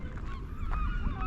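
Seabirds honk and call in overlapping bursts along the sea cliffs at Howth, Ireland, loud and close against a steady windy background.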